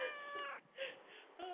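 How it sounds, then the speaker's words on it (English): A house cat meows a few times in a row on a set, drawn-out and moderately clear, with faint background murmur. "You want to hear the cat?"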